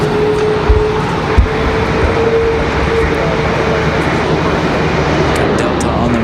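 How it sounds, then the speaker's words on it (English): A Boeing 757 jet departs Raleigh Durham airport on a windy day, its engine roar a steady broadband rumble that holds throughout, with wind buffeting and a couple of low thumps. "We got a 757 departure."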